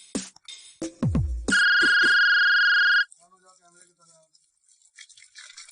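A phone rings with a steady electronic tone for about a second and a half, loud and close, after a few clicks and knocks, then fades to quiet room sound.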